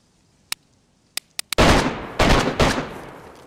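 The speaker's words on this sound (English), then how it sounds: "the sweet sounds of gunfire to end the calm before the storm" Gunfire in the video game DayZ: a few isolated sharp shots, then a sudden loud burst of rapid automatic fire rolling on with repeated bursts, no talking.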